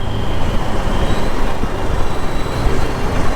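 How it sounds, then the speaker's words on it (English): A bus passing on a road beside a BMW G 310 GS motorcycle, a loud continuous roar of heavy engine and traffic rumble that holds steady throughout without a clear start or end. "These buses should be banned"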